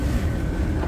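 Strong wind blows hard outdoors in a snowy setting, a dense continuous roar buffeting the microphone with no voices.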